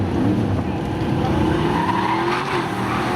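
Drag race cars at Seekonk Speedway, including a Chevy Camaro, roar off the line in a spectator drag event. The engines rise loud and continuous with rising pitch, and tires skid across the whole stretch.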